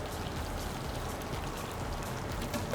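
Red onions sizzle in olive oil and butter over low heat, a dense, even crackle close up and steady for a few seconds with no talking.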